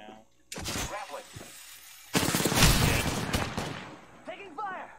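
Apex Legends gunfire, loud bursts of rapid shots and crackling impacts in two main volleys, close, with players' voices talking over and between them.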